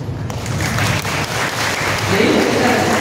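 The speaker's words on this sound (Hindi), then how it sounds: "तालियां" A crowd at a youth day gathering breaks into applause, a steady wash of clapping that swells slightly toward the end, with a voice faintly audible beneath it.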